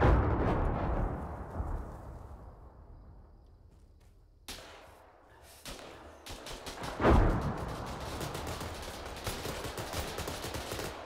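Grenade blast in the military shooter ArmA 3, a heavy boom that rolls off into a long rumbling tail, followed by sharp crackling gunfire and another deep thump amid continuing shots.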